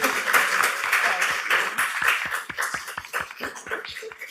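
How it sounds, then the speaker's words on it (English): Audience applause for a speaker at a docent talk, a brisk, fairly close patter of clapping that thins toward a few separate claps near the end, with a voice running faintly underneath. "I want to give you a round of applause before we open the questions"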